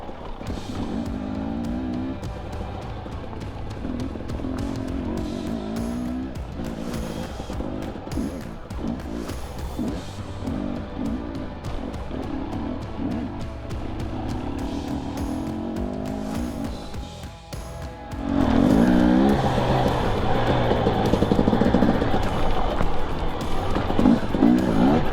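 An 80cc dirt bike engine drones steadily on a trail hill climb, loud and close throughout, then surges louder and rougher in the last several seconds as the throttle opens.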